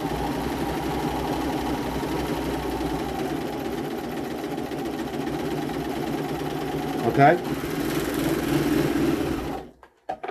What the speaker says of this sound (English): So just overlocking this edge, you're just going to close that up so the raw edge is all done.